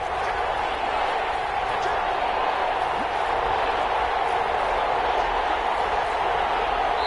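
A stadium crowd in a PS4 American football video game keeps up a constant, loud roar of noise, with faint commentary speech beneath it.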